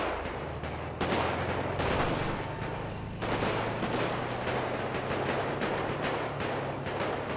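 Gunfire in a GTA roleplay game: dense, continuous bursts of shots with sharp cracks around one and three seconds, over a steady low engine-like rumble, loud throughout with no talk.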